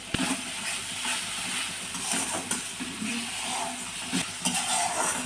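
Spice paste of turmeric, salt and sugar for a Bengali bata fish curry, frying and stirred in a pan, with a steady close sizzle and hiss broken by occasional scrapes and clinks of the spoon against the pan.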